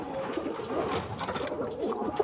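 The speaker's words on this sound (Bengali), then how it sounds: "সবই কানুদারি পায়রা" Kanudari pigeons coo softly and repeatedly at close range, low rounded calls overlapping against a busy background of other birds and murmur.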